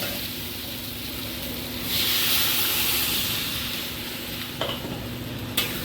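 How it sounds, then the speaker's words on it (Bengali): Water poured into a hot pan of fried, well-cooked curry for a thin potato and taro fish stew, producing a loud steady sizzling hiss that swells in the middle, with a couple of sharp clinks near the end. "এখন এর ভিতরে আমি জল দিব"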